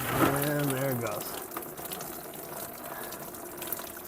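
Coolant gushing from a hose on a 2006 Chevy Colorado during a cooling system flush, a steady watery splashing stream that continues throughout, with a person talking over the first second.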